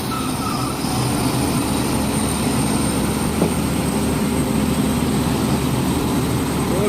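A truck engine droning loud and steady as it pushes through a deep mud track, a continuous unbroken roar with no clear rises or pauses.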